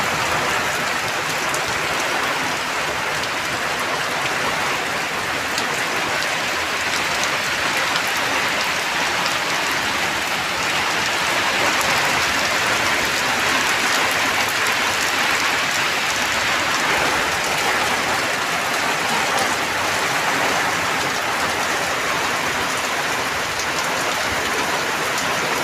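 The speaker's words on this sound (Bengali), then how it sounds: "ভীষণ হারে বৃষ্টি হচ্ছে আমাদের এখানে।" Heavy rain pours steadily onto a paved road and nearby surfaces, a dense, even hiss of drops that continues unbroken and loud, with no voices.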